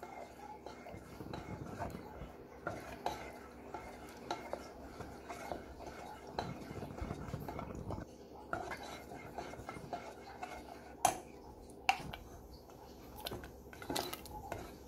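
Spoon stirring cooked onions and cashews with spices in a pan for chicken korma, soft scraping and occasional metallic clinks, quiet and close with faint background noise.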